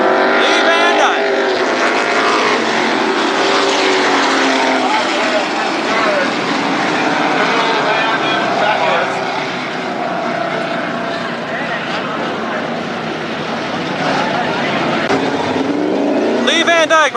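Sprint race cars at Berlin Raceway roar steadily around the oval in a Super Sprints event, engines loud and continuous throughout, with a track announcer's voice over the noise.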